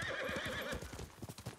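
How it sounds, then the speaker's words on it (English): A horse in the game Ghost of Tsushima clip-clops along with quick hoof beats and lets out a whinny early on, the hooves continuing in a steady rhythm at moderate volume. "You're a good horse, Kage."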